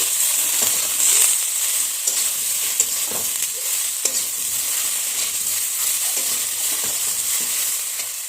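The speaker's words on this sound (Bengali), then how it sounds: "এখন আমি এটাকে একটু নেড়ে নিচ্ছি" Ridge gourd frying with salt and turmeric in a pan for a thin fish curry, stirred with a spatula: a steady sizzle with repeated scraping strokes, close and fairly loud, no talking.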